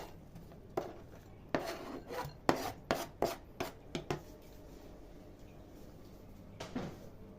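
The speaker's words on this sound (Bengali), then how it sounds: "এখন আমি এগুলো দিয়ে এটা মাখিয়ে ফেলবো।" Lentil batter being hand-mixed with chopped onion and green chilies, heard as a run of soft irregular squelches, rubs and knocks close by, clustered in the first half and then thinning out, with no talking.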